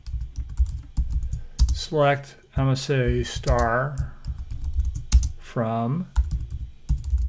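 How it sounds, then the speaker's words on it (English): Quick keyboard clicks tap along between and beneath a person talking nearby. "I'm going to start typing in"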